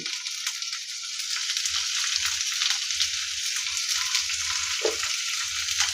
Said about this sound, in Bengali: এগুলোকে আমি এই ফোড়নের মধ্যে দিয়ে দিলাম